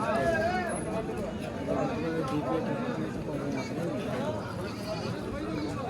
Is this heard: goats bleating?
yes